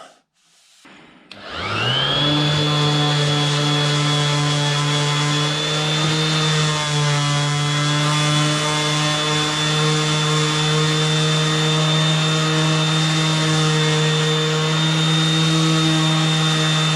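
A power sander works along the edge of a wooden door being fitted to its frame, starting abruptly after a brief pause and then running as a loud, steady, high whine with a constant pitch for the rest of the clip.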